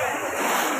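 Sea waves rush and splash onto the shore at the beach beside the Kunkeshwar temple fair, a steady, close wash of water lasting under a second.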